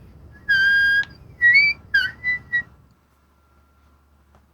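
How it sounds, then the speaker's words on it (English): A dog shepherd's whistle blown in the Elden Ring video game gives one long clear whistle, then several shorter bright blasts in quick succession, followed by near silence. "that's the Dog shepherd's whistle."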